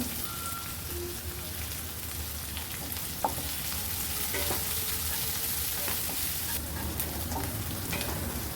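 Onions frying with green chillies and curry leaves in a pan for a beetroot sabzi, giving a steady close sizzle with occasional stirring clicks and no talk.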